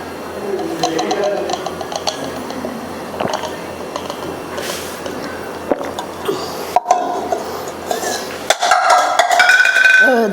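Pots, dishes and glasses are scrubbed and knocked together at a home wash spot, with scattered clinks and clatters. The clanks sharpen toward the end while voices talk throughout.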